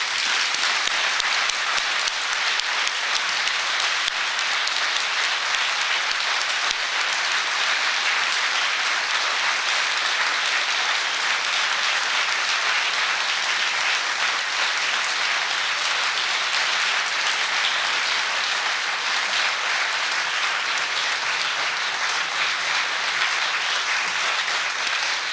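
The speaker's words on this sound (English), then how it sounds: "please join me in applauding the 5 2009 winners of this award." Long, sustained audience applause at a distinguished teaching award ceremony honoring five winners, a thick, uniform wash of many hands clapping at full volume throughout, with no speech over it.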